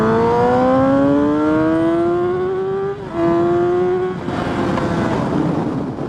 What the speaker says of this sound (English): The acceleration on the R6, it just pulls and pulls and pulls till you are breaking every single speed limit around town.